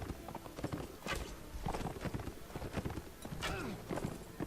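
Horse hoofbeats in the Mount&Blade Warband game, a steady clip-clop of galloping mounts mixed with battle clatter and game noise, with a voice talking now and then.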